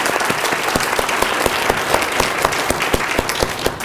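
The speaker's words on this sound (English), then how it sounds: "Melanie deserves a great round of applause for initiating the idea and carrying it through to invite Walter to this particular event." Dense, steady applause from a lecture audience, sustained at an even loudness for the full stretch with no speech over it.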